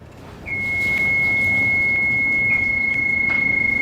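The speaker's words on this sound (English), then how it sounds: "you press the power button and hold until the alarm goes away" A boat's engine alarm: a loud, continuous high-pitched electronic tone comes on and holds steadily, with faint clicks and a low engine hum underneath.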